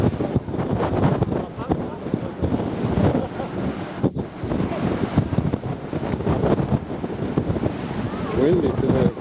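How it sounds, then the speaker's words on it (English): Strong wind buffets the microphone outdoors on a trip to Hawaii, a loud, steady roaring rumble with gusty swells, while voices talk intermittently underneath. "Windy today."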